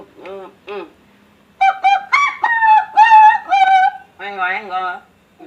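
Someone mimics a chicken again with loud, close vocal bursts: two short clucks, a pause, then a longer string of warbling squawks and crowing-like calls.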